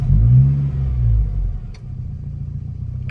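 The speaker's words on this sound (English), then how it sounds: "quick video of start up and idling on this SAAB 900 Carlsson" A 1991 SAAB 900 Carlsson cranks and catches with a deep rumbling start-up surge, then drops back toward a steady mid-pitched idle, close by and loud.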